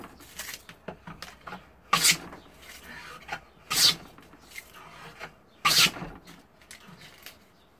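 A wooden English boxwood jointer plane cuts curled shavings in a series of short, close rasping strokes, with four especially strong passes spaced a couple of seconds apart between quieter rubbing.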